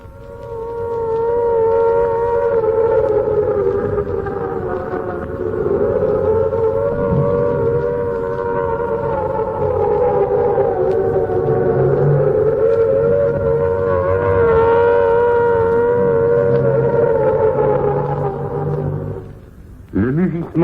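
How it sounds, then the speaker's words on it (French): Air raid sirens wail continuously in long rising and falling tones, loud and sustained, with faint sounds beneath before fading at the end. "des sirènes hier soir, comme plusieurs fois depuis quelques semaines, a déchiré l'atmosphère"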